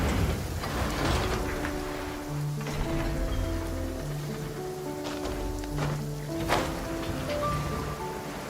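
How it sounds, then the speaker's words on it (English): Steady rain falls in the Genshin Impact game world, a continuous hiss of drops on surfaces with a soft low rumble, mixed under gentle sustained musical tones. "I like the rain."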